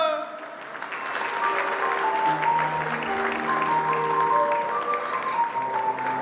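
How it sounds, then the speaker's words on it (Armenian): Dense applause from an audience at a dance ensemble performance, sustained for several seconds and mixed with music playing throughout. "ծափերը բարձր"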